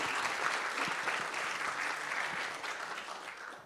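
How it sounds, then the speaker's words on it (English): An audience at a presentation event claps for a speaker who has just finished, a sustained, evenly dense round of applause from a moderately sized crowd, steady throughout with no voices over it. "Let's give Leontien an applause."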